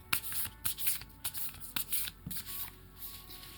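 Rapid riffling of playing cards being shuffled, several quick bursts in a steady rhythm, close and fairly quiet with no voices.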